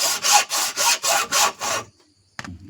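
A hand saw cuts through a coconut shell for a craft piece in about seven even, loud strokes, then stops, with a short scrape or knock after a brief pause.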